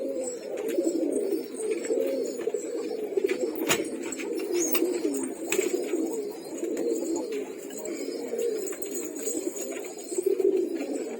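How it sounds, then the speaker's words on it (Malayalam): Pigeons in a loft coo in a continuous low, throaty murmur of overlapping calls, with occasional clicks and light knocks over the top. "ഈ പ്രാവാണ് ഞാൻ ഇവിടെ സൂക്ഷിച്ചിരിക്കുന്നത്."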